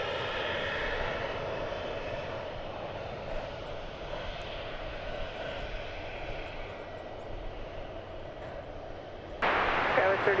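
An American Airlines Boeing 737-800 arriving from Mexico City at DFW Airport gives a steady, sustained jet roar for several seconds, swelling sharply louder in the final second.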